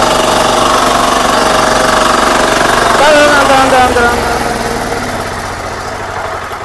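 A Kama 12 HP mini power weeder engine runs steadily with a dense, loud mechanical drone, dipping slightly toward the end, while people talk over it.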